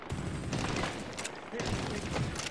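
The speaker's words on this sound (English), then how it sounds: "Oh, they shooting rockets, though." Rockets and gunfire in the Medal of Honor Warfighter video game: dense, crackling bursts of blasts and shots that run almost continuously at moderate loudness, with a few sharper peaks.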